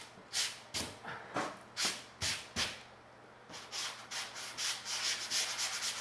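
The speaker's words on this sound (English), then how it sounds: "I'll do some nice final sanding" Hand sanding strokes rub across a drywall control expansion joint, a steady series of close, dry scraping passes that start spaced and rhythmic, pause briefly, then quicken into faster, denser strokes.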